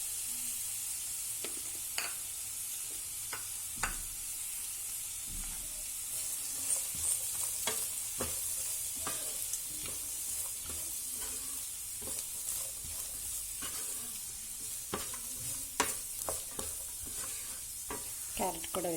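Carrots and green beans stir-frying in a pan, a continuous close sizzle broken by frequent scraping and clattering strokes of a spatula.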